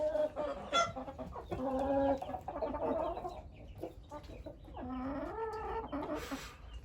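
Brahma chickens clucking inside a coop, a series of nearby bursts of clucks and squawks at moderate loudness with short pauses between them.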